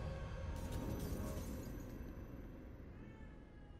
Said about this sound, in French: Pourquoi tu miaules comme ça?